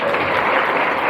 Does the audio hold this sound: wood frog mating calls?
no